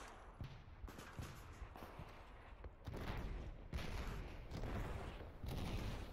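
Explosions and gunfire in the Minecraft mod Blockfront, a WWII-style shooter, keep booming and popping continuously at a steady, fairly loud level, thickening and growing louder halfway through.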